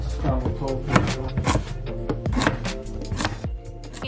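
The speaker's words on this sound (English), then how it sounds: "I just started by chopping up some parsnips as well as some Brussels sprouts" Knife chopping parsnips and Brussels sprouts on a cutting board, quick repeated close thuds in an uneven rhythm over light background music, while someone talks over it.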